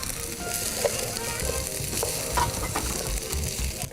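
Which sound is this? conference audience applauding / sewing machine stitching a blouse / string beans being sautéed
string beans being sautéed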